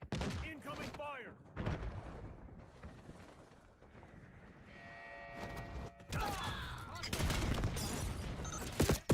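Video game combat with bursts of gunfire and explosions, sharp cracks and rumbling blasts coming in clusters, mixed with a player talking.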